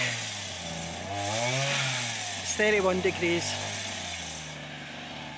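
A petrol engine drones steadily in the background while mowing in a hot garden beside a tall hedge, rising and falling slightly in pitch as someone talks over it.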